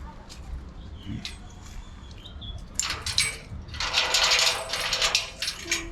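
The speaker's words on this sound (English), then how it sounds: "we're going to open the gate now" Keys jingle and scrape in the lock of a gate, followed by louder metallic rattling and clanking as it swings open, close by, with faint voices and background noise.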